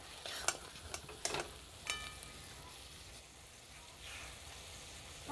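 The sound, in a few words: crab cooking and stirred in a pan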